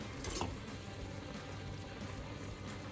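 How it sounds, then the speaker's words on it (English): Sauce cooking in a pan for creamy dairy-free macaroni with hummus, giving a steady low sizzle and bubbling, with a brief brighter crackle or stir near the start and no voices. "Cook for a few minutes until the sauce gets cooked"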